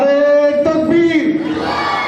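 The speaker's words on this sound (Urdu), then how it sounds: "میں چاہتا ہوں کہ اس موقع پر 1-2 نعرے لگا جائے" A large crowd at a religious gathering (jalsa) chants the Takbir slogan in unison, a loud, sustained collective shout rising in pitch, answering a call from a man at the microphone.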